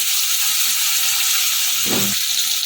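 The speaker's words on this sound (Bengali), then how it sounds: "বেগুনগুলো লাল লাল করে ভেজে তুলে নেবো" Eggplant pieces sizzle in hot oil with a little turmeric and salt, a continuous bright hiss close up, briefly joined by a soft stir or clatter partway through.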